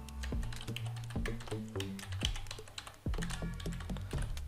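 Close keystrokes on a computer keyboard come in quick irregular bursts with short pauses, crisp and clicky, as a password is entered, with no talking.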